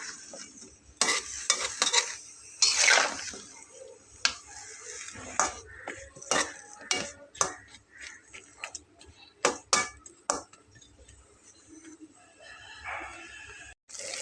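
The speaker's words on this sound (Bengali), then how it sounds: "ঢাকনাটা দিয়ে দিলাম" A lid goes onto a pot of Bengali-style kochur loti, with metallic clinks, clatters and stirring scrapes scattered throughout and a soft sizzle underneath, close and fairly quiet.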